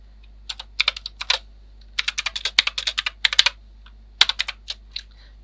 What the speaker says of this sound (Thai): ด้วยการพิมพ์คำสั่ง vi ตามด้วยชื่อไฟล์ที่เราจะสร้างนะครับ